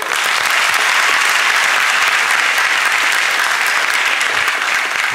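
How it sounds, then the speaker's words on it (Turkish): Loud, dense audience applause fills a Turkish TV comedy sketch show studio, steady and unbroken for about five seconds with no talk over it. "Önce Ayça'ya bir alkış."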